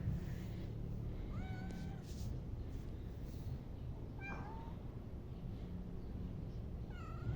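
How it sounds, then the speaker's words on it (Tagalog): On a rooftop, a cat meows three times, in short rising and falling calls spaced a few seconds apart over a steady low background hum. "Meow meow."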